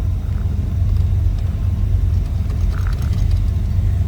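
A 1937 Ford Deluxe Sedan engine running after a push-button start, a steady low rumbling idle heard close up and alone.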